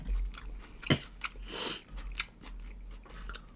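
Someone eats rice with kimchi stew and salmon, making close, soft wet chewing sounds in an uneven rhythm, with a few sharper bites and smacks and no talk over them.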